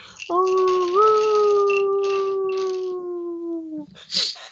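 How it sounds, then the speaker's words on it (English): A single long, tonal canine howl in a tabletop role-playing game holds steady for several seconds, sliding slightly in pitch, followed by a brief rustle; it sounds somewhat distant and clear. "a howl in the distance"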